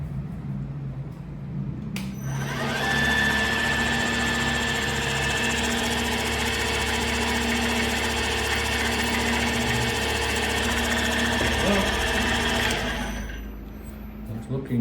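A mini milling machine with a digital readout runs steadily for about ten seconds, a loud, even motor whine with a start-up and a wind-down at either end.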